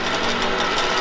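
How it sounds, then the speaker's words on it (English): A Harvey Alpha bandsaw blade slows under its brake with a brief, close, clicking mechanical rattle lasting about a second. "once I turn it off, I just pump it a few times and that blade will stop"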